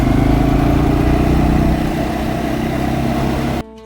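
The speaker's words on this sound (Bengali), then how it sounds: "আমি এখন যাচ্ছি কোয়াড বাইক রাইডে" Quad bike engine on a sandy island in Australia, running with a steady, loud, buzzing drone that eases slightly midway before cutting off abruptly near the end.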